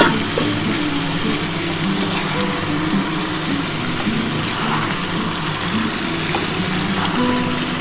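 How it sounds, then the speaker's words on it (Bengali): Water is poured into a simmering mutton and potato curry, making a steady hiss and gush with bubbling underneath that holds for the whole stretch, close by with no talking. "এই যে এই জলটা দিচ্ছি"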